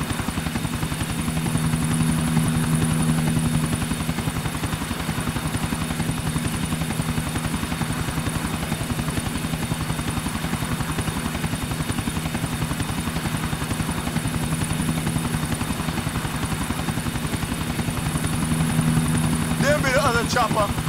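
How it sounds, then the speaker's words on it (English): A helicopter in Grand Theft Auto 4 drones with a steady, loud rotor thump across the whole stretch, with character voices talking over it now and then. "There'll be the other chopper. Stick to him, Nico."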